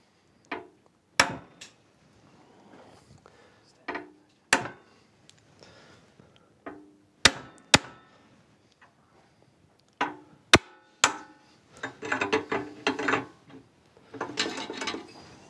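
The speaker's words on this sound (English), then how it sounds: "this is actually a legitimate use of a hammer" A hammer strikes metal parts of a 1959 petrol lawn mower in sharp, irregular clanks, some loud and some lighter, followed near the end by bursts of metallic clattering and scraping.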